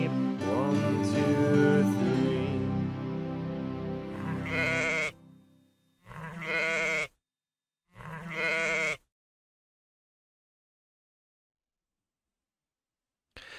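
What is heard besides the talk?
sheep bleating in a children's song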